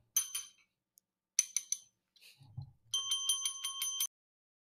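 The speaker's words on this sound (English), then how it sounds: "Should have tested the bell before the show started." A small bell rung by hand during a livestreamed show: several bright dings in short bursts, ending in a longer run of rapid rings, with a brief low murmur between them.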